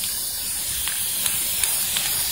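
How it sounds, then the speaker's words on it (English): High heat spray paint hissing from an aerosol can onto a metal fireplace piece, a loud continuous spray with a few faint clicks. "I'm going to put my second coat on this piece that came off the fireplace with our high heat spray paint"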